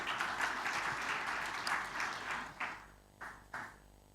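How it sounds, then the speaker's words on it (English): Audience applause at a convention, a dense burst of clapping that fades and breaks into a few scattered, isolated claps at the end. "Please give them a big hand clap."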